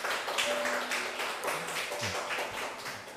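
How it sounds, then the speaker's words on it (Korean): A church congregation at a Sunday worship service applauds to welcome the young accompanist, giving steady, dense clapping that fills the room for the whole stretch without any talk. "우리 환영한다고 박수 한번 쳐주겠습니다"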